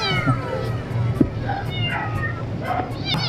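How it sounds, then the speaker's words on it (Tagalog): A newly bought kitten meows repeatedly up close, high, wavering cries in quick succession over a low background hum. "Ito yung pusa na bibili ba natin."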